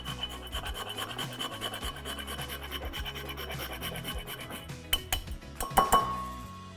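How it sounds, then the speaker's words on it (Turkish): A whole nutmeg grated by hand into a sugar and egg mixture for a baked dried-fruit bread, making a steady, close rasping scrape for several seconds that ends in a few light metallic clinks. "Biraz muskat rendeliyorum."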